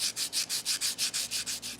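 Coarse-grit sandpaper, around 40 grit, rubbed over limestone in quick, even back-and-forth strokes, each pass a gritty scratch, about a dozen in under two seconds, close and clear.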